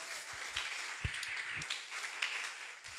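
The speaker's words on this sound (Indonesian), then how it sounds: "beri tepuk tangan bagi Tuhan." Congregation clapping in a church, a faint, scattered patter of many hands at a distance with a few sharper claps standing out.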